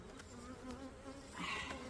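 Honey bees buzz steadily around a thriving hive in an April check-up, a dense close drone of many wings that swells slightly toward the end, with no speech.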